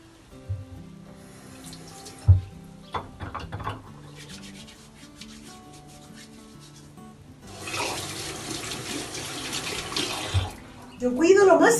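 Tap water runs into a basin while a small female dog is being bathed, a steady rushing stream that swells louder later, with sloshing and rubbing noises and a voice speaking over parts of it.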